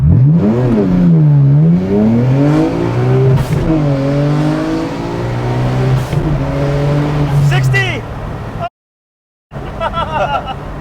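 A 1990s Nissan R33 GT-R V-Spec accelerates hard in a 0-60 run, its engine note climbing through several rising gear pulls, loud and close from inside the car, then cutting briefly before resuming with voices.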